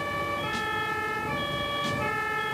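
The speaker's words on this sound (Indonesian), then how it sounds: "Kamu tengok tadi dia bagi laluan kepada ambulans yang berada di belakang." An ambulance siren wails in traffic on a narrow, congested road, a steady loud tone that switches pitch, heard over the rumble of vehicles.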